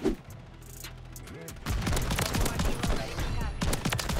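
Shotgun blasts ring out in Call of Duty MW3 gameplay, a rapid cluster of sharp, loud shots in the second half following a quieter stretch, with game sounds around them.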